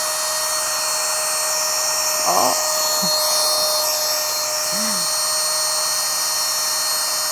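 Steady whine of an electric pump drawing air out of a travel backpack to vacuum-compress it, a constant close mechanical drone running throughout with a few faint creaks of the bag shrinking.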